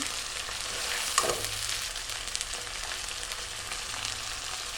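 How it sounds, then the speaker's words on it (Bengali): A ground paste of dried and green chilies, cumin, garam masala, onion, garlic and ginger sizzles with salt in hot oil for a duck curry. The frying crackles steadily and close, with a few louder spits and stirring scrapes. "মরিচের গুঁড়ো, হলুদের গুঁড়ো, ধনিয়ার গুঁড়ো দিয়ে মশলাটা আমি ভালোভাবে কষায় নেব"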